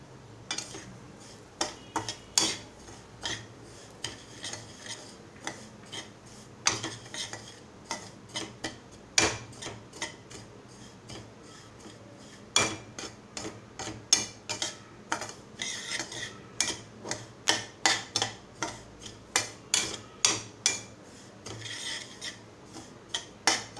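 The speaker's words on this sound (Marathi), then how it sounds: "तूप घालणार आहे आणि त्याच्यामध्ये रवा घालून 5 मिनिटं भाजून घेणार आहे।" Semolina roasting in ghee in a pan for Konkan-style upma, with a steady run of scraping, rasping spoon strokes against the pan, close and moderately loud, no talking.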